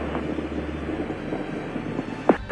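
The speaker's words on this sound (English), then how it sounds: "Liftoff of the 25th Space Shuttle mission, and it has cleared the tower" A Space Shuttle lifts off with a deep, continuous rocket roar and broad rumble, loud and steady throughout, with a brief sharper burst near the end.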